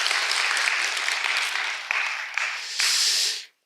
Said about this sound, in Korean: 여러분 모두에게 다시 한번 큰 박수 서로에게 좀 주실까요?